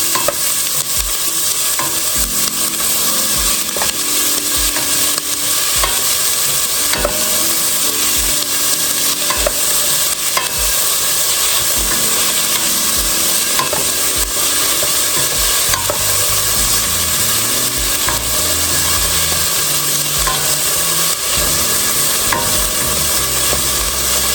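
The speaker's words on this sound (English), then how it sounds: "We're gonna saute these for a minute until they get a little soft, and then we're gonna add our garlic." Collard greens sizzle steadily in a hot pan while being stirred, with regular scraping strokes of a utensil against the pan over a constant frying hiss.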